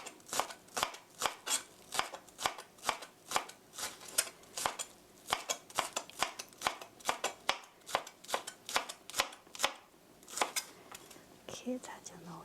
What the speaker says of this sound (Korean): 이렇게 하면 파가 다지기가 되는 거예요